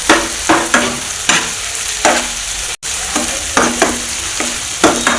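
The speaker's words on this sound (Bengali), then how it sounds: "সবজিগুলো প্রায় ভাজা হয়ে আসছে" Vegetables fry with soy sauce and tomato sauce in a hot pan, a loud constant sizzle broken by repeated sharp scraping stirs and a brief dropout midway.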